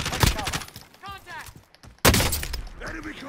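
Rapid gunfire in the video game Warzone, bursts of close shots cracking over shouted voice chat, with a loud blast near the middle.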